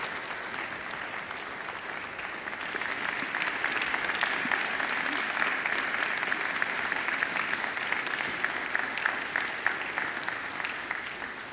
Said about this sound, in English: now I ask you to give them a mighty round of applause